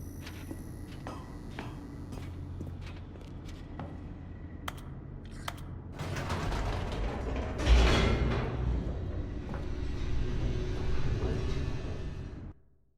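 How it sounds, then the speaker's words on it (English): Elevator in The Stanley Parable: Ultra Deluxe starting with scattered mechanical clicks and creaks, then swelling into a heavy rumbling descent with a low thud partway through, before cutting off abruptly. "The elevator raced downward, plummeting towards an unknown fate."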